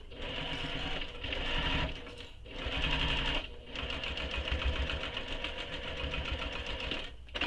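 A sewing machine stitches a handbag seam from the raw edge down to the bottom of the bag, running in rapid mechanical bursts with brief pauses between runs, close and clear with no talking.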